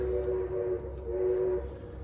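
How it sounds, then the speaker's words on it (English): A train passing in the background, heard as a faint, steady low rumble with a sustained horn-like tone, alone with no voices. "You hear that train going by in the background."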